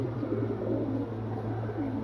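Pigeons in a loft coo softly and repeatedly, low rolling calls over a steady background hum, fairly close but gentle.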